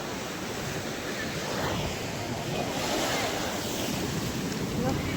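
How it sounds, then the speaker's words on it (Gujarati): Sea waves wash onto the shore at Dwarka in a steady, moderately loud surge, with gusting wind buffeting the microphone throughout. "જો દરિયાના મોજા જેવા આવી બધા"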